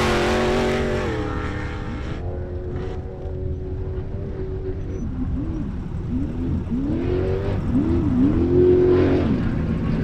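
An off-road race car on the Ridgecrest course in the 2018 Rigid Rampage qualifying, its engine droning and rising and falling in pitch as it revs through gears, loud and steady throughout.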